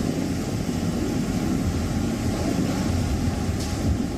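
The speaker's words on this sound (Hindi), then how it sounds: "समंदर की लहरें किनारे से टकरा रही हैं।" Arabian Sea waves crashing on the shore near Mumbai and Gujarat as Cyclone Biparjoy approaches: a steady, dense, rumbling surf roar mixed with wind, loud and unbroken throughout.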